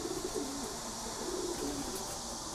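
Young pigeons, about a month to six weeks old and fully feathered, cooing close by in a steady low murmur of overlapping calls, with no talk over them.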